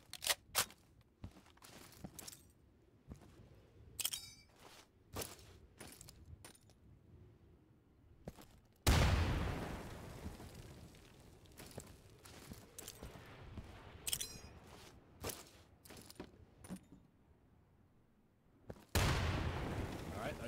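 Frag grenades going off in the tactical shooter game Insurgency: two sharp, booming blasts about ten seconds apart, each with a long decaying rumble, set among quieter clicks, footsteps and distant gunfire.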